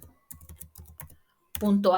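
Quick bursts of keystrokes on a computer keyboard as a file name is typed, close and crisp, followed by someone speaking.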